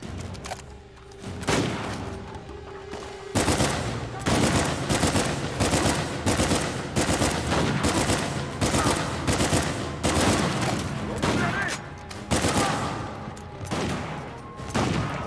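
Sustained heavy gunfire in the video game Uncharted 4, dense automatic bursts and booming shots layered over each other almost without a break, loud and continuous.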